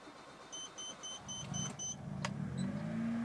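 A car engine cranks and catches during an ECU test after servicing, with a rising motor whirr and a sharp click, then settling into a low steady idle, close and moderately loud.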